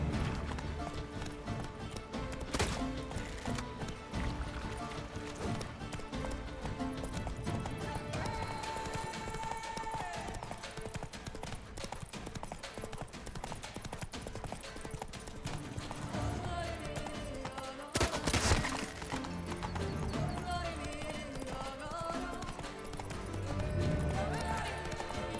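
Horse hooves gallop in The Witcher 3 video game, a continuous clip-clop of running steps under game music and ambience, fairly faint overall, with a brief louder crash partway through.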